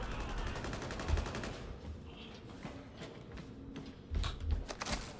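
Rapid automatic gunfire from Warhammer 40,000: Darktide rattles in a fast burst, then gives way to scattered thuds and further shots, loud and close against the game's background din.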